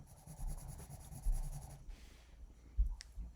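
Soft, scratchy strokes of a pencil shading on paper, repeated in short bursts, quiet and close.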